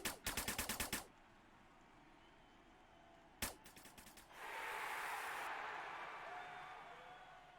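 Bursts of gunfire from the VR shooter game Snapshot VR: a rapid automatic volley at the start, then a second shorter burst, followed by a loud sustained rushing sound.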